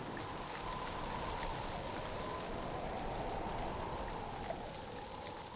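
Steady rain pouring down during an outdoor wedding, a dense continuous hiss and patter at an even, fairly soft level with no voices over it.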